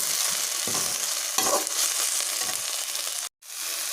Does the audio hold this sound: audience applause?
no